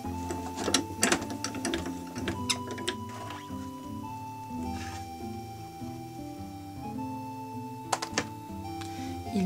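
The crank of a manual die-cutting machine is turned to press a card design, giving rhythmic mechanical clicking and rattling up close. Soft background music plays throughout.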